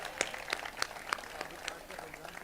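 An audience at a Hindi stand-up poetry show claps in a loose burst of separate, fairly sharp hand claps that thin out over a couple of seconds, with some voice underneath.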